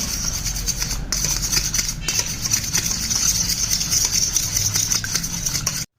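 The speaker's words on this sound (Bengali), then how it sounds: "এবারে ডিম দুটোকে ফেটিয়ে নেবো" Two eggs are beaten briskly in a bowl, producing a fast, continuous clattering and whisking close by, with a couple of brief pauses before it stops.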